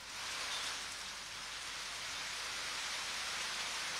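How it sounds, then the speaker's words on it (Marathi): Heavy monsoon rain pours steadily during flooding in the Konkan region near Chiplun, Maharashtra, a dense even hiss of downpour that holds constant throughout with no voices. "मोठ्या प्रमाणात पाऊस या ठिकाणी पडतोय."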